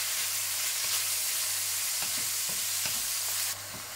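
Pork and bell pepper stir-fry in a wok over a not very strong flame, giving a steady close sizzle broken by scraping stirs of the spatula, with no talk.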